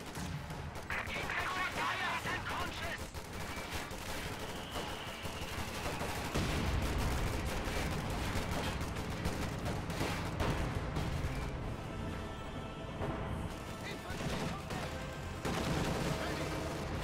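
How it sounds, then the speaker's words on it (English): An IS-2 tank's top-mounted machine gun fires in a real-time strategy team game, rattling in steady bursts amid other battle noise, with a commentator talking over it. "Bio squad gets wiped by the top mount machine gun by the IS-2 right there."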